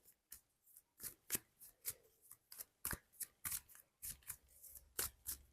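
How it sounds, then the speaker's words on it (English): Tarot cards are shuffled repeatedly in quick, crisp bursts of riffling and snapping, close up and alone with no talking. "I just shuffled the cards a lot, don't worry about it."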